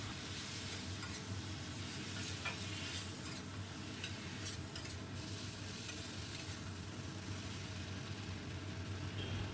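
Spice paste being sautéed and stirred in a pan for a puti fish chorchori with finely cut potatoes, a steady close sizzle with soft scraping throughout and a low hum beneath, no talking.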